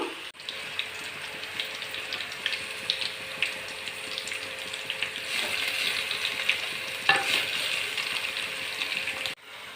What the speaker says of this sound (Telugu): రెండిట్లోనూ ఉప్పు పసుపు వేసి మూత పెట్టి మగ్గిస్తాను